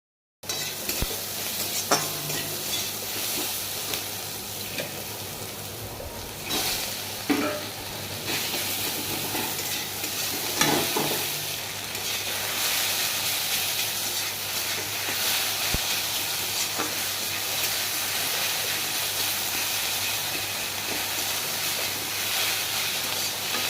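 Fish roe fritters fry in hot oil in a pan, a continuous close hissing sizzle with occasional clinks and stirring scrapes, steady throughout with no voices.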